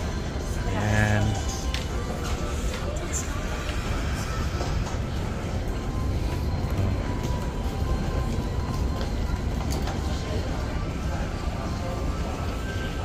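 Rumble and hiss of a Taipei MRT metro train ride, a continuous moderate roar with faint rattles throughout, a short voice near the start.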